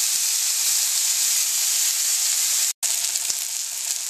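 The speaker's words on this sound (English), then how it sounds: "Now I'm going to sear it on each side for 2 minutes" Prime rib sears in a hot pan on medium heat, a steady, loud, close sizzle with a constant bright hiss that holds throughout, broken once by a brief moment of silence before the frying resumes.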